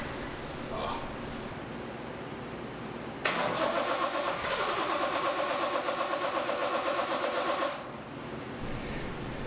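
A 1970 Triumph TR6 engine is cranked by the starter, which catches and settles into a rough, uneven idle, then quiets toward the end, with someone talking in the background.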